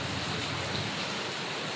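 Rain pours steadily in Jamnagar, a dense, even hiss of drops that fills the short stretch without pause.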